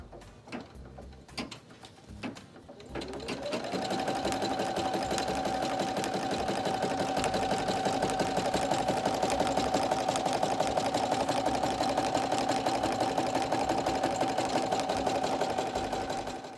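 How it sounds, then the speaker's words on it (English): After a few soft handling sounds, a single-needle sewing machine starts up and runs continuously, stitching around a large appliqué letter with a steady, humming mechanical whir that holds to the end. "I'm going to go ahead and let the machine stitch around it."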